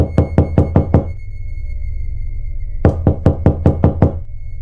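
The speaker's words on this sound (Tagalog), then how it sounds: "Isang malakas na katok ang kanyang narinig." Loud knocking on a wooden door: two quick, sharp series of about five raps each, close and forceful, separated by a pause of quiet hum.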